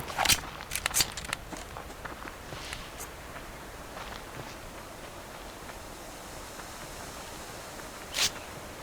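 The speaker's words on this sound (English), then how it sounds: "it seems like I can hear footsteps behind me" Footsteps crunch behind the player in the survival game Subsistence, a few soft steps clustered near the start over a steady outdoor ambient hiss, with a brief scuff near the end.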